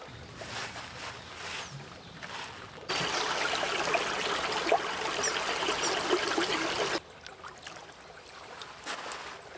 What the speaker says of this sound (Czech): Naberu do něj vodu a ukážeme si, jakým způsobem dokáže ten filtr vlastně tohle přefiltrovat.